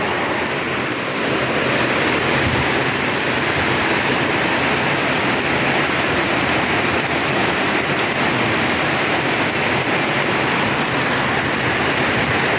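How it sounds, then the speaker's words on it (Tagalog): Heavy rain pours down in a steady, dense roar, loud and continuous throughout with no voices. "Guys, maulan na."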